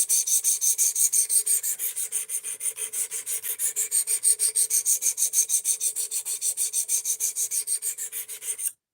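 Ozark Trail knife blade stroked on a whetstone, a long run of rhythmic rasping scrapes, about four per second, close and steady, ending abruptly with no talk.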